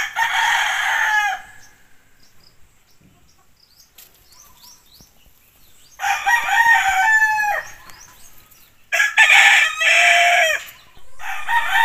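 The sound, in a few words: chickens and rooster crowing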